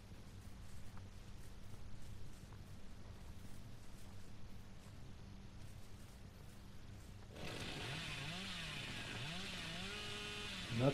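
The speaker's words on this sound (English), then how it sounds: "That's why the hillbilly's key there, that chainsaw sprint." A chainsaw revs up in Dead by Daylight as the hillbilly killer begins a chainsaw sprint, its buzzing snarl cutting in loudly after several seconds of low, steady game ambience.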